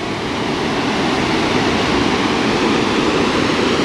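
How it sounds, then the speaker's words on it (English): A waterfall at Fern Pool in the Kimberley pours in a steady, dense broadband rush, loud and continuous with no pauses or voices. "Magnificent waterfall."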